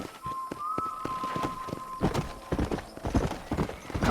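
Rhythmic clip-clop of a horse's hooves galloping in the Western video game Red Dead Redemption, close and steady, with a brief high whinny near the start and no talk.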